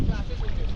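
A boat ride out at sea off Devbagh beach: a continuous low engine and water rumble with steady wind noise.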